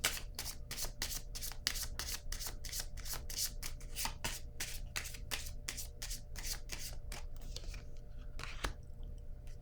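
Cards being shuffled during a tarot-style reading, a steady close run of crisp riffling flutters and slaps repeating for several seconds over a faint background hum, no talking.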